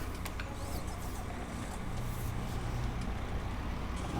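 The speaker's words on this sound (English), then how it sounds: "And we need to bring the truck as close as possible" A truck in Farming Simulator 19 drives on a Cantabria farm map, producing a steady, continuous engine rumble with no pauses and no voices.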